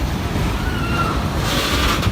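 Heavy night rain falls in Tando Adam city, a dense, loud, steady hiss with a rushing, wind-like wash that holds without a break over a couple of seconds.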